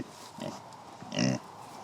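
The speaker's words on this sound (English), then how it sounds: "Come here, pig." A pig on a central Illinois farm gives two short grunting oinks, the second louder and longer, close by against quiet outdoor background.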